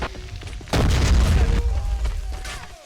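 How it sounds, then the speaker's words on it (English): A loud artillery boom erupts in the Army Men of War battle game, a single heavy blast followed by a long rumbling decay with scattered crackles and faint battlefield noise underneath. "I can see the artillery still being very effective."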